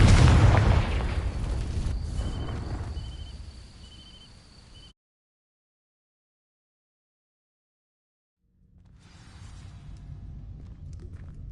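In Hogwarts Legacy, a Confringo fire spell blasts and ignites dry vines with a loud booming burst that rumbles and fades over a few seconds, followed by silence and then a low burning crackle.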